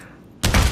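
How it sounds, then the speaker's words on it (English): A grenade blast in the virtual reality shooter Pavlov erupts suddenly after a quiet moment, one loud close explosion with a rumbling tail. "Why did he throw a grenade at you then?"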